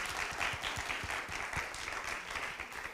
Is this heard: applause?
yes